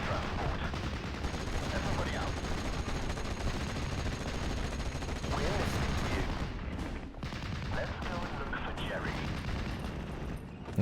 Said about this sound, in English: Mareki might actually get killed here by an MG.